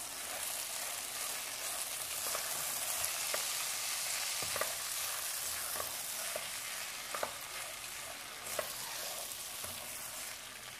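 Calabresa sausage fries in a pan, a steady bright sizzle running throughout, with occasional soft clicks and scrapes of a utensil stirring it; no voices.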